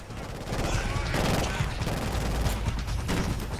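Dense gunfire from the shooter game Killzone Shadow Fall, rapid automatic bursts rattling continuously and loud throughout, with heavy low booms mixed in and a voice faintly underneath.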